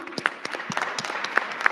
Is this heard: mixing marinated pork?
no